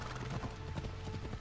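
Horse hooves clip-clop in a quick, steady galloping rhythm in the video game Assassin's Creed Odyssey, close and continuous under a bed of game ambience.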